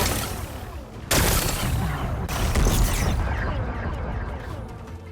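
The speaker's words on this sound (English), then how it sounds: "Gotta blast away some rocks, so I can expose the power cell." Rock-blasting explosions in Horizon Forbidden West, a sudden loud burst followed by a second blast and a sustained crackling, rumbling roar of breaking rock and debris lasting several seconds.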